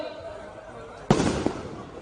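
Firecrackers go off at an Ayyappa Swamy padi puja and homa gathering, with a sharp burst partway through and crackling after it, heard at a distance over a low background hum.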